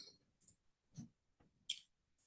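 A few faint computer mouse clicks, sharp isolated taps spaced irregularly across a quiet moment at a desktop, with nothing else heard.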